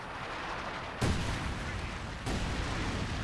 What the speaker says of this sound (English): Here's some artillery. Another round Incendiary Barrage.